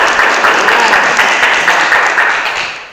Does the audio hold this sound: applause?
yes